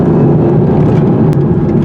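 A 2018 Audi TT-RS rolling downhill, a steady, loud low road and engine hum from inside the car with no distinct revving, constant for the whole brief moment.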